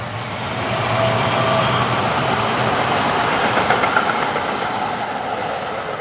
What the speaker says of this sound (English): Here are trains.